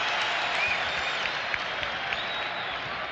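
A basketball arena crowd applauds steadily in a dense, sustained wash of clapping and cheering, with no clear talk on top.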